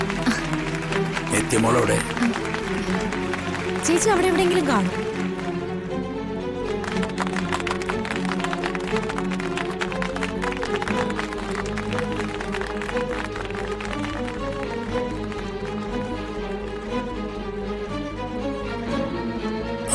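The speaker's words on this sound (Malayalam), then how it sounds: "എല്ലാവരും നന്നായിട്ടൊന്ന് കൈയടിച്ചേ." An audience at an award ceremony on stage claps steadily and densely for most of the stretch, with music and a speaking voice over it.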